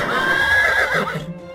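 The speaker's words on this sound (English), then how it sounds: "Icarus was finding it was hard to control the horses." A horse-neigh sound effect in a bedtime story: a single loud whinny rises, wavers and trails off in a little over a second, heard alone.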